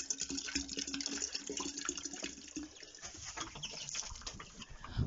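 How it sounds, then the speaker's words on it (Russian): Water is poured out to clean things on a frozen village farm, an uneven splashing and trickling with faint clatter, fairly quiet throughout. "Сейчас нальем водички и все."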